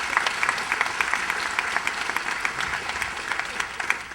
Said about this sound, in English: You guys really should give yourself a round of applause.